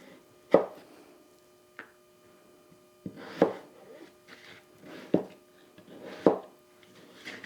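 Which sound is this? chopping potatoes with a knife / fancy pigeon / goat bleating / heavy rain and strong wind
chopping potatoes with a knife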